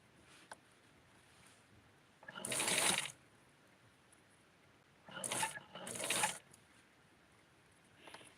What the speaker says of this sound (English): Let's try to sew it with the machine.